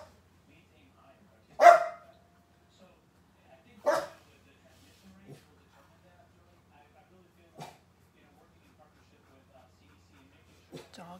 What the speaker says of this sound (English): Dog is going bananas.